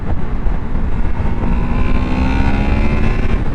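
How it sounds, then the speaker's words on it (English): A Honda VFR800FE touring motorcycle revs up hard on the road, its engine note rising steadily and loud over wind rush as it climbs into VTEC. "I want to get this VTEC going"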